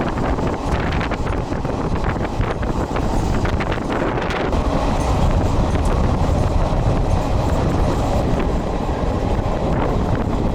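An Indian passenger train runs from Delhi to Mumbai with a loud, steady rumble and faint rhythmic clatter of wheels on rails, heavy wind rushing past the microphone.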